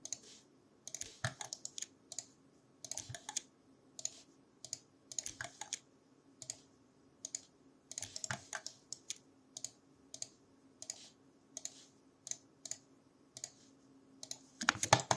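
Crisp computer mouse clicks in irregular bursts during Alias modeling work, close and fairly quiet, some rapid doubles and clusters over a faint steady hum, with no one talking.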